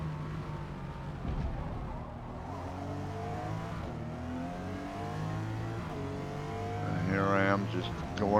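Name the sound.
Toyota Supra GR engine upshifting on straight, Forza Motorsport video game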